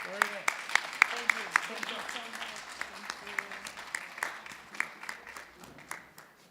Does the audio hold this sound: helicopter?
no